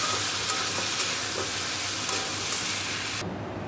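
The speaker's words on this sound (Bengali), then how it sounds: "জিরে ধনে কাশ্মীরি লঙ্কার গুঁড়ো সব দিয়ে ফুলকপি আলুটা কষছি" Cauliflower and potato sautéing in a pan with cumin, coriander and Kashmiri chili powder, a loud, dense continuous sizzle with stirring scrapes that cuts off abruptly near the end.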